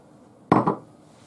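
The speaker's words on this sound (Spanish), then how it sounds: "Ahora echamos las yemas en la batidora" Egg yolks drop into a mixer bowl for a sponge-finger batter, a single short clattering knock of bowl and utensil in a quiet kitchen, then fading.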